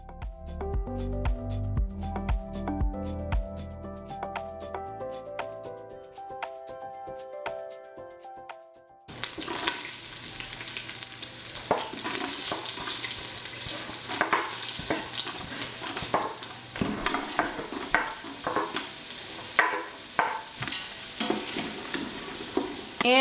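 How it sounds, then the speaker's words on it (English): Onions and celery sautéing in butter in an Instant Pot on saute mode, heard as a steady loud sizzle with repeated scraping stirs after a brief musical opening, no talk over it. "we're gonna saute the onions and the celery"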